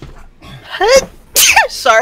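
Two sharp sneezes from a person close by, each a sudden loud burst, with a brief spoken apology between them.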